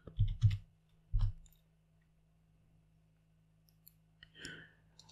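A handful of sharp keyboard clicks close by, a quick cluster then one more, followed by near silence and a faint later tap.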